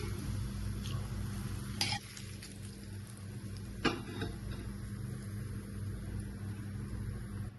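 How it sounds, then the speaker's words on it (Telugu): Tempering of hot oil and spices poured into coconut chutney gives a steady close sizzle and crackle throughout, with a couple of sharp spoon or pan clinks, and no talking. "అందులో కూడా కొంచెం ఇదే తాలింపు వేస్తున్నాను"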